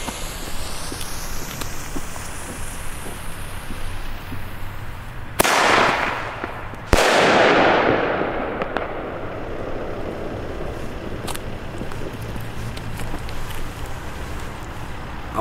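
A Colpo Aero bomb tube firecracker set off outdoors on New Year's Eve, giving two sharp, loud blasts about a second and a half apart, each trailing into a rolling echo over a quiet background.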